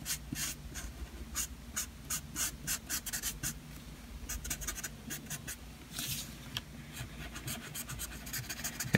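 Smooth markers colour on paper in quick, rhythmic scratchy strokes, close and quiet, with brief pauses between bursts of back-and-forth rubbing.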